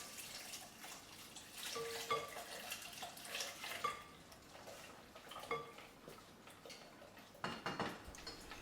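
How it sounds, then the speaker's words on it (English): A whisk clinks and scrapes steadily against a pan as croissant pudding custard is beaten, with light metallic ticks and a soft wet background, close and fairly quiet. "pour it into it and whisk it as well"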